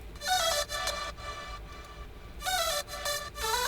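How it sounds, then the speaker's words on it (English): Another synth from the same electronic production plays bright, buzzy sustained notes in two melodic bursts separated by a quieter, sparser passage, heard solo without any voices. "Another synth."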